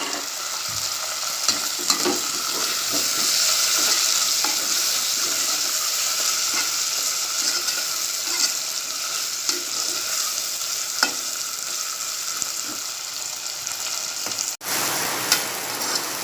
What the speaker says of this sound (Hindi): अब मैं इसमें टमाटर कटे हुए डालूँगी और उसे थोड़ा नरम होने तक